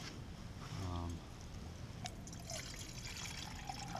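Water pours into a crusader cup from a cook kit, a quiet trickle and gurgle close by with a bubbling rise early on, followed by faint clinks and low background noise.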